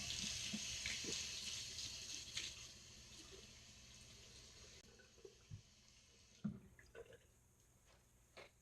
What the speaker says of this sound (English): let me rinse off